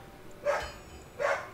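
A dog barks indoors, two sharp, fairly loud barks about a second apart over a quiet room background.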